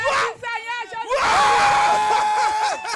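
A church congregation at an evangelical worship service cheers and shouts in praise, with loud sustained voices, whoops and cries filling the space after a brief lead voice.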